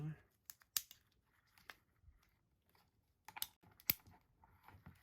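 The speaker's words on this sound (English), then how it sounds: "Now I'm going to snip it up this side." Scissors snip through the roots of a Holcoglossum subulifolium x Vanda coerulescens orchid during repotting, giving sharp close clicks scattered with pauses, with soft handling noises and faint talk in between.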